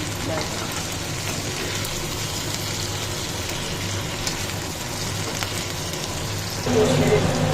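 Pointed gourd curry with vegetables sizzles in a pan, a steady hiss and crackle like light rain that swells louder near the end, with a voice talking over it.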